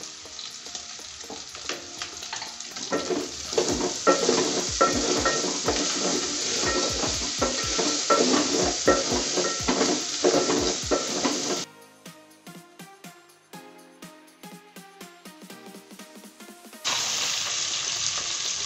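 Garlic and ginger paste frying and being stirred in a pot for goat pilau, a loud steady sizzle with spoon scrapes and clinks, dropping away briefly before the hiss returns.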